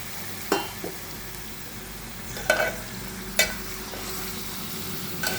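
A kilo of mutton goes into a hot pan over whole spices like cinnamon and cloves, sizzling steadily while a few distinct stirring knocks and scrapes cut through, with no voices.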